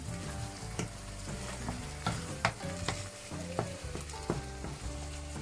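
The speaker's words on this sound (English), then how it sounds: "So now I'm gonna add in our tomatoes. Give it a quick stir." Tomatoes are stirred in a frying pan with eggplant and vegetables, a continuous sizzle beneath repeated scraping spatula strokes, close and clear with no voices.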